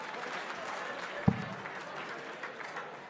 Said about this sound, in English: Nice ripple of applause, though, for the attempt.